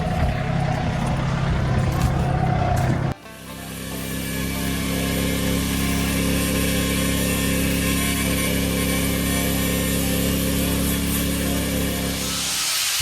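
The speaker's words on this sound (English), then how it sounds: "got the grinder, and we're just gonna slice these U-bolts out of here" An angle grinder cuts through the U-bolts on a van axle, a loud continuous whine and grind that starts after a brief burst of rougher noise and holds steady for about ten seconds.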